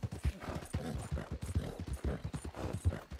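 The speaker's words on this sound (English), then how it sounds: "it's usually just my horse making weird sounds" A horse in Red Dead Redemption 2 gives a steady clip-clop of hooves at an even walking rhythm, close and moderately loud, with faint snorts among the footfalls.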